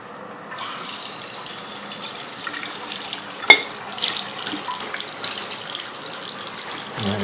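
A tap runs steadily into a sink while something is rinsed out under it, the flow splashing at moderate volume, with one sharp clink partway through.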